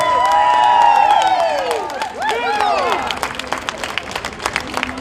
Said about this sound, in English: Give yourself all a round of applause.